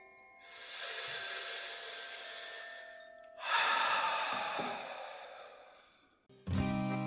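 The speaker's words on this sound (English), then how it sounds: "Start to take a deep breath in." A slow, deep breath drawn in during a guided meditation, then a long airy exhale, followed by another long breath and a sharp final intake, close and breathy with no talking.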